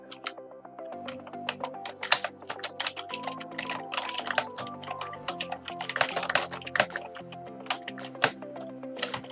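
Rapid, uneven clicking of keys on a computer keyboard while text is entered into Prezi Next presentation software. The taps are close and crisp, with dense bursts and short pauses, and no voices.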